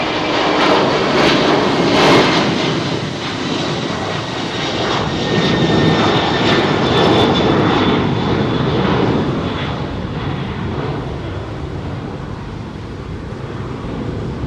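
A Singapore Airlines Boeing 777 roars down Heathrow's runway 27R on departure, a loud, steady broadband jet rumble with a faint whine that swells and holds for the whole stretch, no voices over it.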